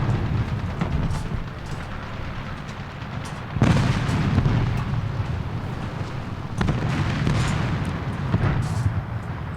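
Repeated booming explosions and heavy gunfire in a War Thunder arcade tank battle, with sharp blasts at intervals over a constant loud rumble of combat, no talking.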